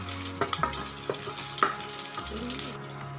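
Three green chillies sautéing with fennel seeds in hot oil, a close, steady sizzle broken by a few sharp stirring clicks and scrapes over a low background hum, with no talking.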